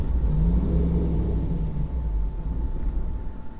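A tuned car engine idles roughly and unevenly near stalling, a low steady rumble that sags and wavers toward the end.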